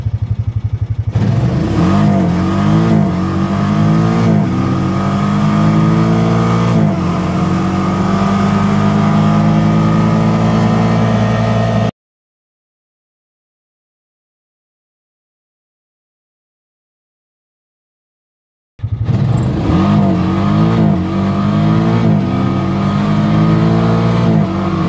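A Honda Pioneer 500 side-by-side on 27-inch tires drives along a road, its engine droning loudly and steadily with shifting revs. The engine cuts out to about seven seconds of silence midway, then resumes.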